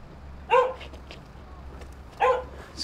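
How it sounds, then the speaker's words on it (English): Two loud barks from a big dog, each short and sharp, separated by well over a second, heard fairly close over a low steady background rumble. "That's a really big dog over there."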